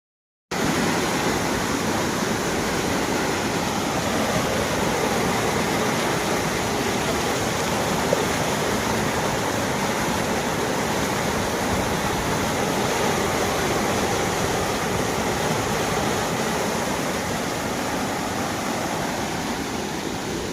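A steady, loud rush of water roars without pause, a swollen stream in full flow after heavy rain, with no voices.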